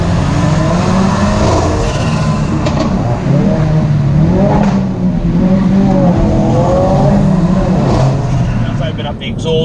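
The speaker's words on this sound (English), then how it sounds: "I want to get a few more bangs and pops out of the rear of the exhaust system." A Ford Focus RS engine in sport mode roars and revs loudly and continuously, with rising and falling pitch and a few sharp exhaust crackles and pops, as a voice talks over it.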